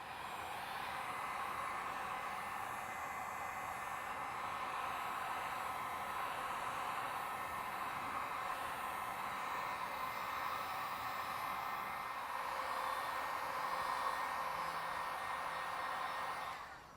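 A heat tool runs continuously while warming a plastic bumper for dent repair, giving a steady airy roar that holds at a moderate, even level for the whole stretch with no talk.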